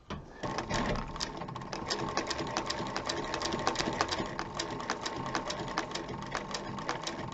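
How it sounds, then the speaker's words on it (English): A sewing machine stitches a zipper in place around the edge of a zip-around wallet, with a steady rapid mechanical whirring and clicking of the needle, moderately quiet, close and continuous, with no talking. "So I'm going to go ahead and stitch this around the whole edge until I get to the other side."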